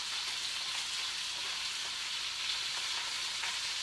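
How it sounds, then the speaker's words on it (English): Steady, dense sizzling of barramundi pan-searing in a frying pan, loud and continuous with a crackly hiss throughout and no voices. "lots of sizzling action"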